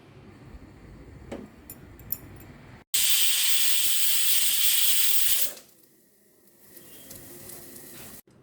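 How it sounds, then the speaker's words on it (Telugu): A pressure cooker of dal on a high flame lets off a loud, steady rush of hissing steam for about two and a half seconds, then drops to a softer lingering hiss after quiet kitchen background. "మూడు విజిల్స్ రానివ్వాలి"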